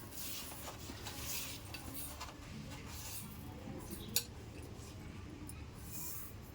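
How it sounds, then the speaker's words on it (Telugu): Spice powders being stirred and mixed together in a large bowl for Andhra avakaya pickle, a soft steady scraping with one sharp clink, faint and close. "ఫస్ట్ ఒక పెద్ద గిన్నె తీసుకుని మసాలాలన్నీ కూడా అందులో మిక్స్ చేసుకోవాలి"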